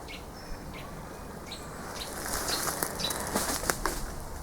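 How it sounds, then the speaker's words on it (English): Startled birds burst into flight in an overgrown cemetery, a flurry of flapping wings with scattered chirps and calls, building louder and busier toward the end over steady outdoor ambience. "I've just scared a load of birds who are freaking out now, loudly."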